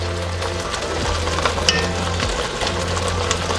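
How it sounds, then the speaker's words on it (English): Spices frying in oil with tomato sauce for a pomfret fish curry, a steady close sizzle with occasional stirring scrapes throughout, no talking. "I'm gonna fry them nice until the oil comes up."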